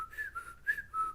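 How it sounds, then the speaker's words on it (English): A person whistles a few short wavering tones in bursts, close and fairly soft, to show how saxophone voicing is shaped with an active front tongue. No one talks over it. "So if I whistle,"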